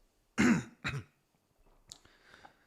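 A person clears their throat twice in quick, loud bursts, followed by a softer rustle; no talking.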